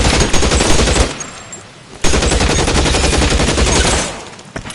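Video-game gunfire in LA Noire: loud, rapid automatic bursts that break off briefly, then resume as a dense, sustained volley before cutting out near the end.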